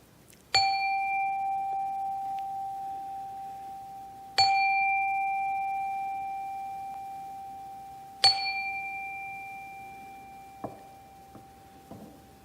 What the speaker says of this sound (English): let us settle our minds and still our hearts with the ringing of our chime